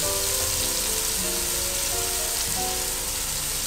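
Tomatoes fry loudly in a hot pan for Chinese-style chicken fried rice, a dense, continuous hiss and crackle filling the whole stretch without pause.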